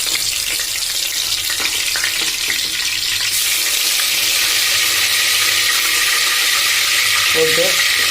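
Whole cinnamon, cloves and cardamom fry in hot oil in a pan with a loud, steady, close sizzle that fills the whole stretch, with a few faint knocks from handling and no talk.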